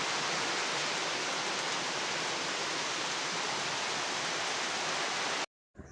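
Heavy monsoon rain pours steadily over an old house on the day its concrete roof is being cast, a dense, loud, unbroken roar that cuts off abruptly near the end.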